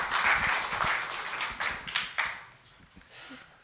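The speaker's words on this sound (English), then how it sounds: "we can give him a round of applause" Audience applause at an oncology scientific session of a medical conference, a burst of clapping that thins out over a few seconds, mixed with some voices.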